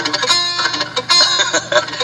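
A poorly fretted guitar bar chord strummed a few times with buzzing, muted strings, giving a choked, uneven sound, close and fairly loud.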